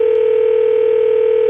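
A steady, loud telephone dial tone hums continuously after a hang-up, holding one even pitch throughout before cutting off abruptly at the end.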